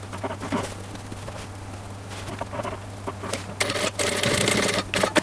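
Sewing machine stitching seams around the brim of a boned sun hat: steady whirring with a rapid needle patter and a constant low hum, growing louder and busier toward the end, alone with no talk.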